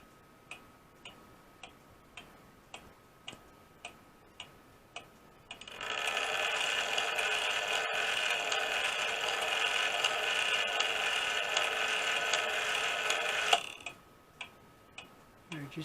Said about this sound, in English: You hear it ticking.